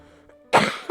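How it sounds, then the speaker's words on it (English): A single sharp, close cough bursting out after a near-silent moment, followed by a brief second catch of breath. "Cough. You made me cough."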